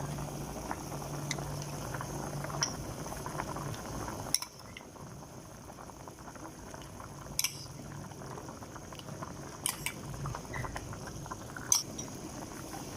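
Water with minced pork and crab sticks bubbling at a boil in a pot for clear soup, a soft continuous simmer with occasional clinks of a utensil against metal.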